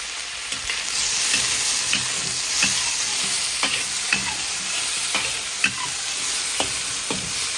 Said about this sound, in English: So stir it up, make sure it's on high heat, and then you coat it.